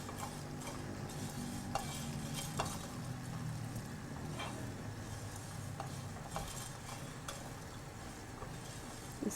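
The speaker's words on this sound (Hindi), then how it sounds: "लौंग, दालचीनी और छोटी इलायची, इसको भी हम भून लेंगे साथ साथ।" Cloves, cinnamon and green cardamom dry-roasting in a pan, a steady close rustling stir with occasional light scrapes and clicks of a utensil against the metal, no talking.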